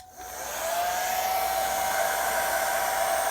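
A hair dryer switches on and quickly ramps up to a loud, steady whooshing roar with a high whine.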